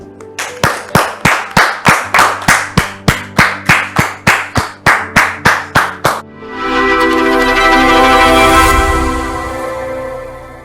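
An audience at a church gathering claps in a steady rhythmic beat, about a dozen sharp evenly spaced claps, then breaks into a dense sustained round of applause welcoming a guest.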